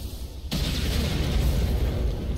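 Grenade exploding in a Counter-Strike match, a sudden loud boom that hits half a second in and rumbles on with a dense, noisy roar for the rest of the moment.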